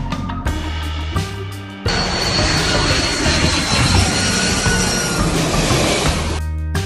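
A propeller plane flies past with a loud, steady, droning roar that holds for several seconds, with quieter tonal sounds just before and after it.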